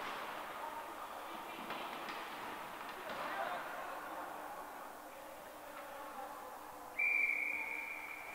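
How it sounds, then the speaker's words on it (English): A referee's whistle at a junior ice hockey game blows one sharp, sustained blast near the end, cutting through steady arena crowd noise and play-by-play commentary. "And we'll get a whistle."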